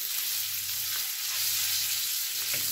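Salmon sizzling in Breton butter in a hot pan, a loud continuous frying hiss with faint scrapes of stirring, close up and without speech.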